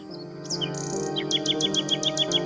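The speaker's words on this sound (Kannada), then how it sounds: "ನಮ್ಮ ಇಡೀ ರಾಜ್ಯ ಈ ಕೋಗಿಲೆಯ ಸುಂದರವಾದ ಗಾನವನ್ನ ಕೇಳಬೇಕು" A nightingale sings in an animated folk tale, a series of bright, repeated chirps and whistled notes over a soft, sustained musical background.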